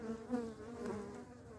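Honeybees buzz steadily at close range at a hive, a soft, continuous droning hum with slight swells in pitch and volume.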